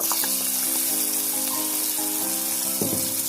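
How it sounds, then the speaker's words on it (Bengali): Whole dried chillies and spices frying in hot oil for a hilsa fish tail dish, giving a steady, close crackling sizzle that runs throughout with no talking. "গোটা শুকনো মরিচ ফোড়ন দিয়ে দিচ্ছি।"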